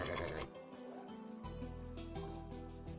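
Horse neighing in a video game, a short whinny at the start followed by a low steady game tone, heard quietly with no talk.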